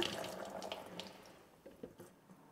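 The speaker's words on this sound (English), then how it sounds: "pour off the water and then rinse the seeds with more fresh water." Water drains and splashes out of a sprouting jar of soaked seeds, a quiet, close trickle with a few soft drips and gurgles that fade toward the end.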